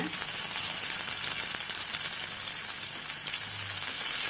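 Sliced onions sauté in a hot pan for a kurma, giving a steady, close sizzle and hiss that runs unbroken throughout with no talking.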